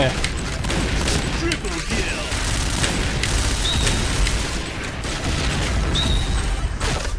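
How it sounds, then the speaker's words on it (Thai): Repeated blasts and bursts of gunfire from a Point Blank shooter game rumble almost without a break, with a player talking over the action. "โอ้ยระเบิดมาเรื่อยเลย"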